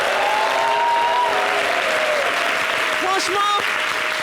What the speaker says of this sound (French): Dès qu'on dit des trucs, ils applaudissent.